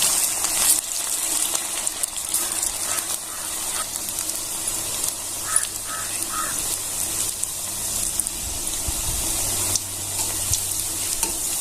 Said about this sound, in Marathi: आपण हे तळून घेऊया गॅस कमी ठेवायचा आहे